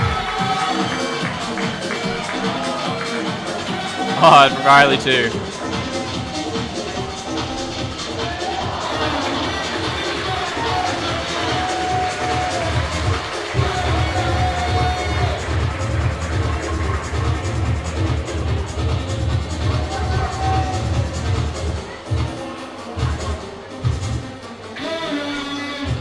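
Crowd cheering and shouting at a bouldering competition, the Black Diamond Lab Masters, as a climber works his last boulder, a steady roar under loud music and an announcer's voice, with a sharp swell near the start.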